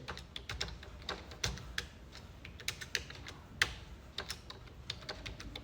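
A username and password are typed on a computer keyboard to log in to the GST portal, a close, uneven patter of quick keystrokes with occasional louder key hits and short pauses.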